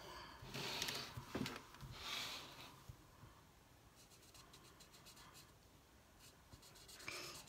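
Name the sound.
coloring mandala with alcohol markers on paper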